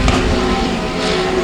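Legend Cars race cars during a heat, a loud, close engine whine with steady high-pitched tones and a passing surge of revving.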